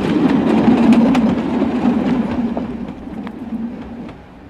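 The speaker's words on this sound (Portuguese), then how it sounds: "Aqui, do lado da minha rua, passa o metrô." A metro train runs alongside a residential street, a steady rumbling roar with rhythmic clicking of wheels over rail joints, loud and close, then gradually fading as it moves away.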